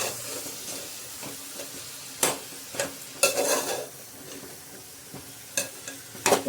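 Minced meat keema being stirred in a pan at home, with a faint steady sizzle underneath and several scraping stirs that come in bursts.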